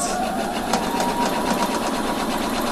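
A sewing machine runs steadily along a garment side seam near a cuff placket, a fast even whir with a regular stitching rhythm, close and continuous throughout.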